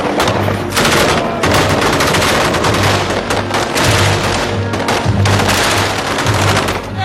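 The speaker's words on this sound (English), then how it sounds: "M16s, 240. We're gonna pop up. We're gonna do 5 seconds of suppression." Rapid bursts of M16 rifle and M240 machine gun suppressive fire from a rooftop position, loud and continuous with dense overlapping shots and brief gaps, sustained for several seconds with no talk.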